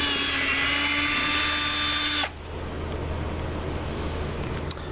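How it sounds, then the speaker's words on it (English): A power drill with a 1/4 inch bit bores a hole while fitting a grass chute blocker to a Gravely zero-turn mower, a steady loud whine running about two seconds then stopping abruptly, leaving low background rumble. "So you start off with a 1/4 inch bit and you're supposed to drill a hole here."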